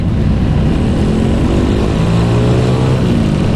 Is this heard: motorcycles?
yes